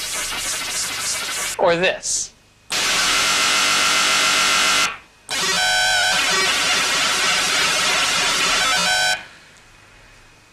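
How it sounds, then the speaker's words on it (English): A synthesizer noise oscillator generates random noise in loud, dense hissing bursts that hold steady and then cut off. A brief voice speaks between bursts, followed by a longer sustained blast of hiss. "Noise sounds like this."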